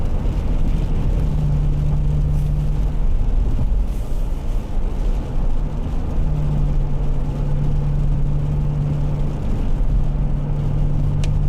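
A truck engine strains and drones loudly while driving during a storm chase, a steady heavy roar with a rising whine that holds throughout, no voices over it.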